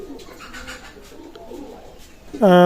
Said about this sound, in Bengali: চমৎকার রানিং পেয়ার কবুতর তিন হাজার টাকা